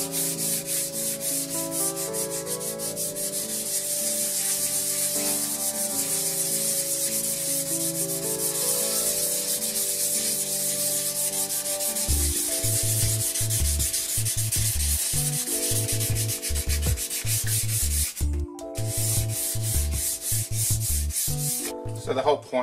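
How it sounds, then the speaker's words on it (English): Sandpaper rubs by hand along a wooden cricket bat in steady back-and-forth strokes, close and continuous, with the rhythm changing partway through as the direction of sanding shifts. "I need to do now is just do a little bit of hand sanding."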